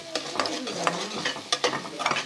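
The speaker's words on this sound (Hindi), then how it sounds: "थोड़ा सा फ्राई करेंगे।" Ground black pepper and salt sizzle in a hot frying pan for chicken bread filling, with a steady crackling hiss broken by several sharp stirring scrapes of a spoon, close and fairly loud.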